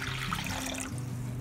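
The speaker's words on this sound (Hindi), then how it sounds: "ये 1 liter पानी हमने जो है ना इसमें डाल लेना है" Water poured from a container into a cooking pot while making namkeen gosht, a steady full gush of liquid splashing throughout, close and loud.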